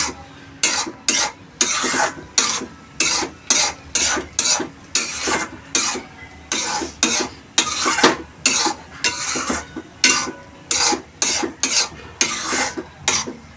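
A spoon scrapes and stirs suji upma in a pan in a steady run of rhythmic strokes, close and fairly loud, with a faint sizzle underneath.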